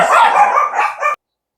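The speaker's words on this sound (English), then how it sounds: "sorry about that, the dogs barked." Dogs bark close by in a quick burst of several sharp, loud barks and yips, then stop abruptly into silence.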